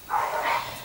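A dog barks once in a short, muffled yelp at moderate distance indoors, a single brief bark with no voices.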